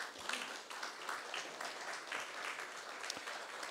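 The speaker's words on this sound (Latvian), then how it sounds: "Aplausi, Andrus." Applause from an audience at a book launch event, a dense, even patter of many hands clapping at moderate distance, sustained throughout without a break.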